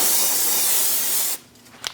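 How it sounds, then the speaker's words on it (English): A can of brake parts cleaner sprays onto a 2000-2006 Mini Cooper front brake hub, a loud continuous hiss lasting over a second before cutting off into a few faint clicks. "Clean it off with a little brake parts cleaner."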